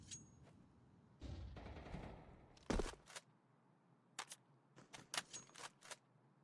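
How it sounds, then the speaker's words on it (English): Counter-Strike wallbang gunfire tearing through walls during a pro league semi-final: a loud burst near 2.7 seconds, then a run of sharp, spaced shots in the second half, over quiet game ambience. "Wallbang attempts."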